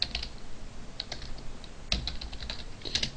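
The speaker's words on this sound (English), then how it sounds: "every time I type a symbol, I have to look on my laptop" Keys clatter on a laptop keyboard in quick, uneven bursts of soft clicks, close up with no voices.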